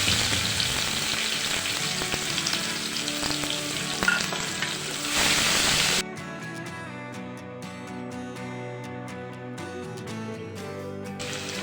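Crushed garlic cloves hit hot oil with asafoetida in a pan for aloo gobi, giving a loud, dense, steady sizzle that drops to a quieter, crackling fry halfway through.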